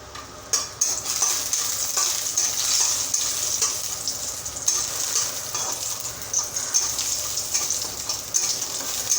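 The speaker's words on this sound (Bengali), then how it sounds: "বড়িটা লাল লাল করে ভেজে নিয়েছি" Bori, lentil dumplings, fry in hot oil with a steady close sizzle and crackle, broken by occasional stirring scrapes, continuous for about nine seconds.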